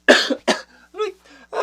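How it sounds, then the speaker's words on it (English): Someone gives two harsh, loud coughs close by, followed by softer throaty breaths and a final cough, all in quick succession indoors. "I'm gonna kill myself with coughing."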